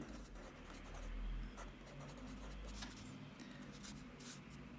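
Quiet, continuous scratching of a pen writing by hand on paper, soft and close with small rubbing strokes throughout and no talking.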